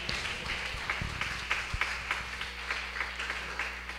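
A church congregation claps loudly during a preaching service, with steady, dense applause and scattered sharper claps sustained throughout.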